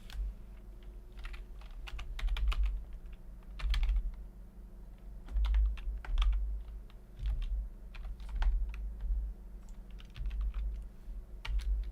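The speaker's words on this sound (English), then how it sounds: "I just typed." Fingers type steadily on a computer keyboard, giving an uneven run of close, crisp keystrokes over a low, constant background hum.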